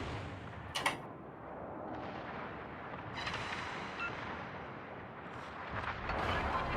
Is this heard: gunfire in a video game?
yes